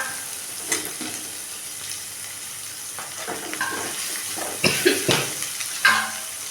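Onions and four or five green chillies sauté in a pan, a steady close frying crackle with several louder stirring scrapes and sizzle bursts toward the end.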